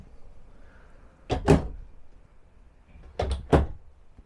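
Two drawers in a 2022 Reflection 297RSTS camper trailer opened and shut, giving two pairs of close, quick sliding thumps separated by a short pause, with no voice.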